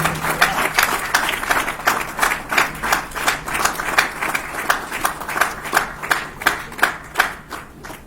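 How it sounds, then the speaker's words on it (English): Audience at a Rotaract club installation ceremony claps in a steady, fairly even rhythm, moderately loud and sustained, gradually thinning toward the end with individual claps becoming distinct. "Give the round of applause"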